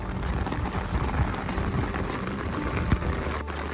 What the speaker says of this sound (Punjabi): ਮੀਂਹ ਵੇਖ ਸਕਦੇ ਤੁਸੀਂ ਬਹੁਤ ਜ਼ਿਆਦਾ ਪੈ ਗਿਆ